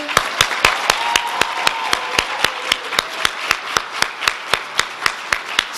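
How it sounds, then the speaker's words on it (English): An audience at a university honors program induction ceremony claps for Ms. Holloway in a steady, evenly spaced rhythm of sharp claps that runs throughout, with a faint voice underneath. "just do a round of applause for Ms. Holloway"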